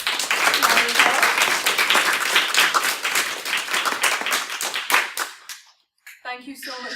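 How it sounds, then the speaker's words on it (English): Audience applause for a speaker at a coders' talk event, loud close clapping from a modest crowd that thins into scattered claps and stops, followed by a brief voice. "Let's give her another little round of applause."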